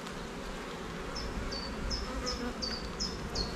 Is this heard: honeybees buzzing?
yes